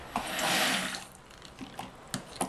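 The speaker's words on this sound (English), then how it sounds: "Let me rinse my blender." Running tap water splashes for about a second, then gives way to quieter clinks and small knocks of a blender being handled and rinsed.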